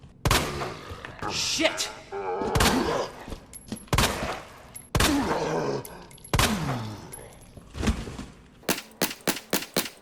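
Matilda handgun shots hit a zombie in Resident Evil 2 Remake, sounding as sharp, loud reports spaced a second or so apart, followed at the end by a fast string of quick shots, with zombie groans and a brief exclamation between them.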